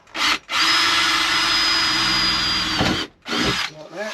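Loud whine of a power drill with an old drill bit boring through a campervan's side panel for a window, running in several bursts, a long steady drilling stretch, with brief pauses between.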